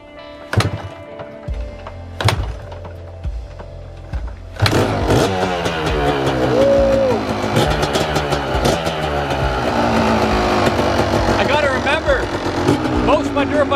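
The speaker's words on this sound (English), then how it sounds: "Let's see if she's a one kickstarter." A 1993 Kawasaki KDX200 two-stroke dirt bike takes two sharp kicks, then catches and settles into a loud, close, crackling idle with small blips of throttle.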